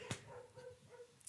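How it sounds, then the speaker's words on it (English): A pet dog gives a brief yelping bark or two, faint and somewhat distant indoors, with short whimpering tones between. "I don't know if you just heard my dog bark."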